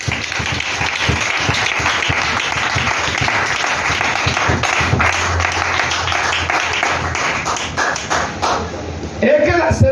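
A church congregation applauds in a sustained wash of clapping for several seconds, with a voice speaking over it and a brief thump near the end.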